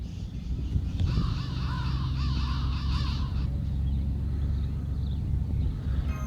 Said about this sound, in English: I've never seen so many crows in one place.